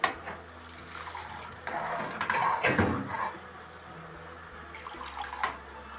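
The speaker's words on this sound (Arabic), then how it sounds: "طبعا انا بزيد الرز بتاعي ميه ساقعه، مش بزيده ميه سخنه." Cold water runs and splashes into a pot of soaked rice for a few seconds, close by, with a steady pour swelling in the middle, amid faint kitchen background noise.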